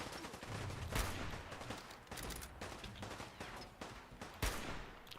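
Combat shotgun fired in the Fallout 4 video game, a few heavy booming blasts with roughly a second between them, mixed with dense crackling game noise throughout.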